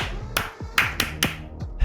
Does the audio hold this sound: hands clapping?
yes